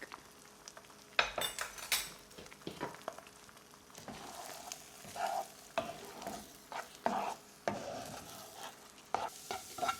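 Bacon and eggs frying in a pan, a quiet crackling sizzle under repeated clinks and scrapes of a utensil stirring and shifting the food, heard close up with no talk.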